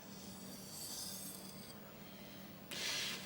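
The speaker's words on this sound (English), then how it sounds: "I'm going to deburr with a single edge leading stroke towards me" Knife edge drawn across a whetstone to take off a burr, with a soft scraping rasp, then a brighter, louder hissing stroke near the end, close and alone.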